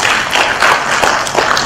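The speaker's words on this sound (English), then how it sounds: "big applause." An audience at a University of Indonesia sustainability awards event gives a faculty a short round of applause, loud and continuous clapping across the whole moment.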